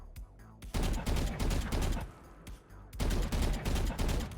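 Rapid bursts of gunfire from a rifle in Valorant while counter-strafing, loud and close, coming in two long sustained strings separated by brief pauses.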